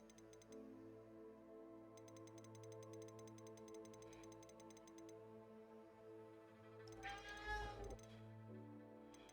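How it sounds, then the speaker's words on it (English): A house cat yowls loudly near the end, wanting out of a room, after a stretch of quiet rapid keyboard typing and a soft background game hum. "My cat is decided to scream."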